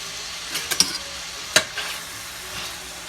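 Onions cooking in a pan with salt, a steady close sizzle and fry with a few sharp stirring scrapes and clinks of a utensil against the pan.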